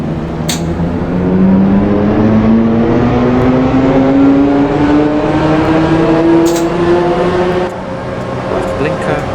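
Train engine of an EMU on Route 14 in a train driving video game pulling at full throttle, a steady loud drone with a whine that climbs gradually in pitch as it accelerates.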